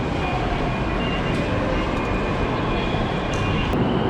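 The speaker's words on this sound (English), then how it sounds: "the metro in India is really developed compared to the other country" Delhi Metro train heard from inside a moving car, a steady loud rumble and roar of wheels and motor running continuously, with faint high squeals and a short hiss near the end.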